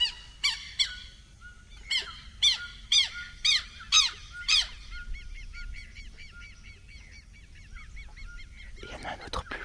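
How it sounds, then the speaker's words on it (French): White birds call at dawn in the Amazon: a series of about eight loud, honking squawks in a steady rhythm, then softer, fainter chattering calls over a quiet background. "Il y a un oiseau blanc, c'est l'autre derrière qui crie comme ça."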